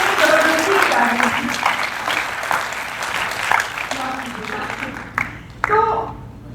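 Audience applause at a Hindi stage event, a dense wash of clapping that holds steady, with a voice talking over it and a few louder claps near the end.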